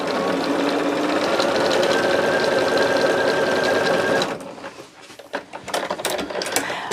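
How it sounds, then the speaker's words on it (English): A sewing machine runs steadily for about four seconds, top stitching a folded fabric edge at a scant quarter inch with white thread, then stops and gives way to a few short handling clicks and rustles. "So I am top stitching at a scant 1/4 of an inch"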